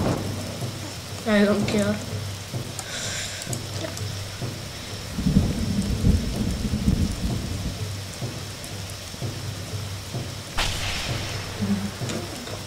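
Rain pours steadily through a thunderstorm while thunder rumbles low and heavy in the middle, and a couple of brief voices speak over the storm.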